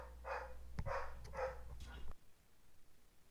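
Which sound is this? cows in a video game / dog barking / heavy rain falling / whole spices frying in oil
dog barking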